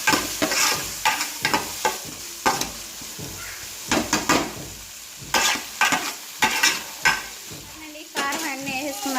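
A spoon stirs and mixes tomato curry with chilli powder in a frying pan, repeated scraping strokes in uneven bursts over a constant close sizzle.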